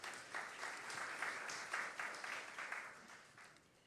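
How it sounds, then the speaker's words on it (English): Applause from an audience at the 11th Biennial Jamaica Diaspora Conference, a steady, fairly faint wash of clapping that holds for several seconds and tapers off. "I think that deserves a big round of applause"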